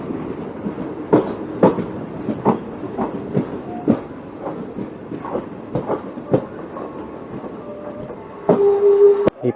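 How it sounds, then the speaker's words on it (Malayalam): The Madurai–Punalur passenger train rolls along with steady clickety-clack wheel beats over rail joints, some squeal and a louder rumble near the end, heard close and without talk. "മധുരൈ പുനലൂർ പാസഞ്ചറാണ് ഈ ട്രെയിൻ."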